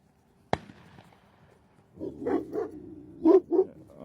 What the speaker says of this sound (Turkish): Avcılar sıkıyor öyle.